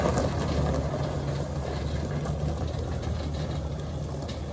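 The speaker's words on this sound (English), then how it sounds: "And there goes the Coronet" Engine of a 1970 Dodge Coronet R/T barn find running and driving away, a low steady rumble that gradually fades over several seconds.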